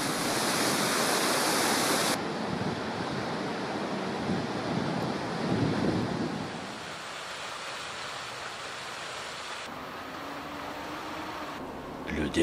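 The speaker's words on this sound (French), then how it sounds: "C'est pendant toute la nuit que va se remplir la forme de radoub." Water pours into the dry dock at the Bordeaux basins holding the ship Sébastien Vauban as a loud, continuous roaring rush that eases after a few seconds into a steady, quieter flow.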